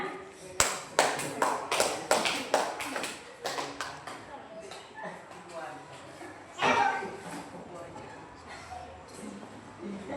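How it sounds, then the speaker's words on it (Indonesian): A classroom of students claps hands in applause, a burst of loud, overlapping claps that peaks early, thins into scattered taps, then swells again briefly before fading, with children's voices chattering underneath. "Tepuk tangan."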